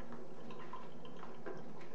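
Spirit drips and trickles from a fractional alcohol still during home distilling, a quiet, continuous patter of small droplets with no voices.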